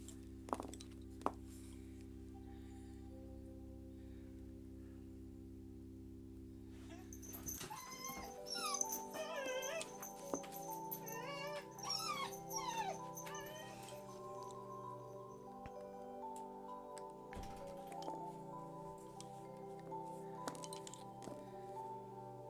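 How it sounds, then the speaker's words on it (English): A dog whimpering: a string of short, high, wavering whines and squeaks rising and falling in pitch, fairly faint, after a stretch of steady humming tones, with occasional soft clicks. "The dog is off again."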